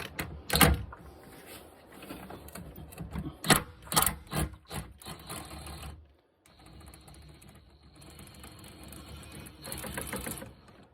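A hand ratchet fitted with a universal joint turns already-loosened bolts on a Suzuki SX4 engine mount member. Irregular bursts of quick clicking and metallic knocks sound close and fairly quiet, with pauses between.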